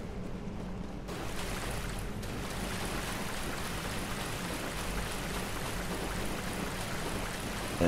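Creek water flowing in Dark Souls Remastered, a steady broadband rush of running water that continues unbroken throughout, with no talking.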